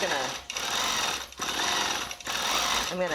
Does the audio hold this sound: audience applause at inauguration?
no